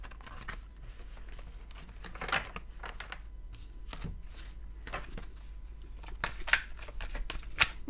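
Tarot cards being shuffled by hand, a soft continuous riffling and flicking with papery slaps and brief crisp bursts, close and fairly quiet.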